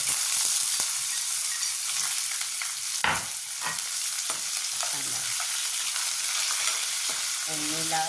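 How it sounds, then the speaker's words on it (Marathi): Chopped onion fries in hot oil with cumin and mustard seeds, a dense close sizzle broken by sharp crackles and pops from bursting seeds, one loud snap near the middle; no voices. "फुटते आता मोहरी बघा आवाज येतोय फुटते मोहरी कांदा टाकतो"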